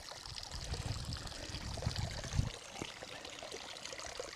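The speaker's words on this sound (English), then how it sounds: "We're just crossing the River Kinder now at the downfall." Steady rushing water flows continuously where the River Kinder reaches Kinder Downfall, a broad outdoor wash with a few louder splashes, no voices.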